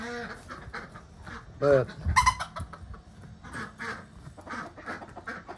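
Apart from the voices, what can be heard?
chicks and ducks chirping and quacking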